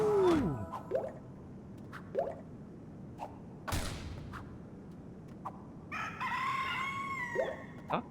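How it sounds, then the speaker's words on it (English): A rooster crows in LittleBigPlanet 2, one sweeping cock-a-doodle-doo at the start and a longer, brighter crow near the end, separated by scattered short game clicks and taps over a quiet background. "Cock-a-doodle-doo."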